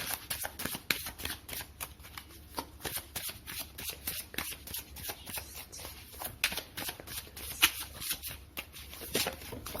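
Tarot cards being shuffled by hand, a close, steady run of crisp riffling bursts repeating over several seconds, with some cards jumping out of the deck.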